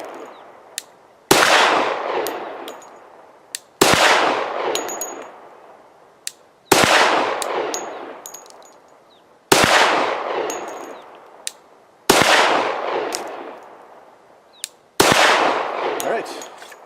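Six loud, sharp gunshots from a Glock 40 MOS pistol fired in the woods, evenly spaced a couple of seconds apart, each followed by a long echoing decay, with small metallic clinks between shots.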